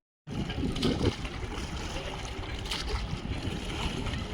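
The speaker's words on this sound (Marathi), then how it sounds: "पाण्याचा वल्ले मारतानाचा जो काही आवाज आहे ना तसा खळ खळ ऐकायला छान वाटत होता" Oars dip and splash through water during a rowing boat ride, a steady close wash of churning water with wind buffeting the microphone throughout and no voices.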